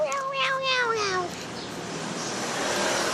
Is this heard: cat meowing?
yes